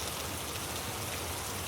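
Steady, soft drizzle of rain falling on a dim country road, a dense even hiss with no voices.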